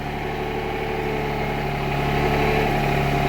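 Tractor engine running steadily as it pulls forward slowly away from an RK 24 backhoe during removal, a loud close drone that holds constant and swells slightly toward the end.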